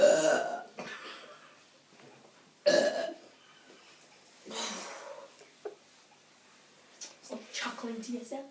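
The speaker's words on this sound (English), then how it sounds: "Oh, and there's a burp coming up." After drinking Red Bull mixed with milk, a person lets out short throaty burps between bursts of speech and chuckling, close to the mic, with a sharp belch near the start and another a few seconds later.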